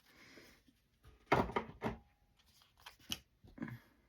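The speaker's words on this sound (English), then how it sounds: "Scissors." A few sharp snips and clicks of scissors close by, irregular cuts separated by short quiet gaps.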